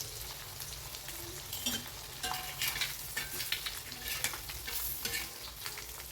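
Halved boiled eggs fry in hot oil for an egg curry, a soft, steady sizzle with scattered utensil scrapes and stirring clinks close by, moderately quiet and with no voices.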